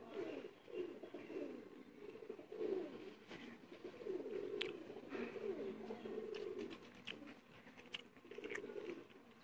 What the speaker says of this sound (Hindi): प्योर इमामदीन कबूतर है